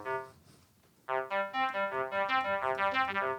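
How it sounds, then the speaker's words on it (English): Gated synth keys patch: a faint lead-in, then a steady run of choppy, rhythmically gated chord stabs pulsing evenly and loudly to the end. "Let's now go to the gated keys, which sound like this."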